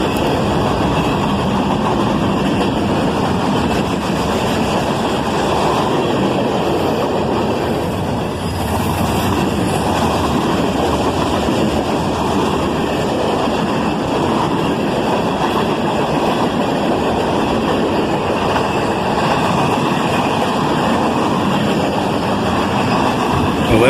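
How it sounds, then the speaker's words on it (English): A long manifest freight train rolls steadily past, its loud, continuous rumble of wheels and cars filling the whole stretch with no break, and a brief faint dip partway through. "This manifest train was a welcome sight after being out so long and seeing nothing."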